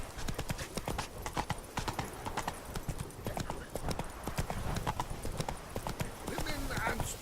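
Hooves of Roach, Geralt's horse in The Witcher 3: Blood and Wine, clip-clopping in a brisk steady rhythm throughout, fairly close, with game voices talking over the hoofbeats.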